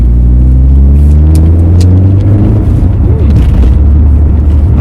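Deep, loud engine rumble from an Alfa Romeo 145 Cloverleaf fitted with a Silver Sport exhaust, a steady low idle drone that holds throughout with slight swells, close to the car.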